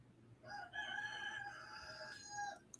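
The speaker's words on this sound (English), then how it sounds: "Y'all hear that bossy rooster?" A rooster crows once nearby, a clear drawn-out call lasting a couple of seconds against a quiet rural background.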